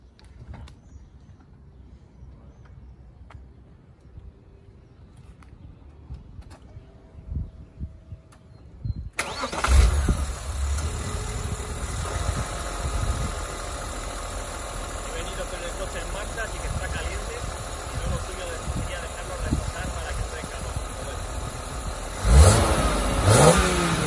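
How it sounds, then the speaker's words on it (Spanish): A BMW Z3 M collector car with a 321 hp engine, hood open, cranks over and catches, then settles into a loud, steady idle with a brief blip near the end, following a quiet stretch with faint background sounds. "no me enrollo más y voy a arrancar el coche."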